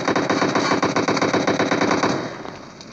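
Rapid automatic gunfire from the video game PUBG rattles in a fast, steady burst for most of the moment, then thins out and fades slightly toward the end.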